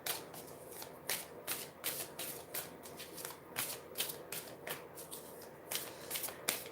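Tarot cards being shuffled by hand, close and crisp, with repeated riffling bursts at a fairly steady rhythm and nothing else over them.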